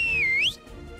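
In the video game Druidstone, a character gives a single short, bright whistle that dips and then sweeps upward before cutting off, clear and close.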